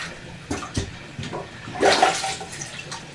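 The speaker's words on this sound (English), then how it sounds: "You have to plunge." Plunger working a clogged toilet that is backing up with water, giving a few wet sucking thrusts and splashy gurgles at close range, with a louder sloshing burst near the end.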